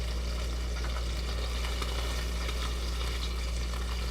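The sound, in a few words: salmon searing in a pan with teriyaki sauce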